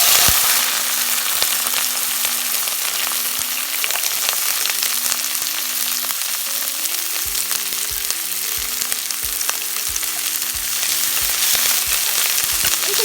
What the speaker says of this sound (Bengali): সেম তেলে আমি রসুন, পেঁয়াজ এবং ফ্লেভারের জন্য যে কাঁচা মরিচগুলো রেখেছিলাম সেগুলো ভেজে নিব।